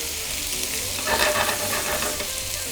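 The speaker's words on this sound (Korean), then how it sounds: "팬에 기름 살짝 둘러주고 아까 잘라놨던 양파와 고추, 김치 넣어주고 볶아주는 거예요" Onion, chili and kimchi stir-frying in a lightly oiled pan for a spicy pork dish, giving a steady close sizzle with a louder burst of frying and stirring midway.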